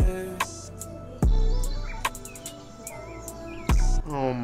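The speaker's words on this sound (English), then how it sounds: "the birds chirping" Chirping bird calls woven into a hip-hop track, short warbling tweets layered over music with booming bass hits and sung vocals.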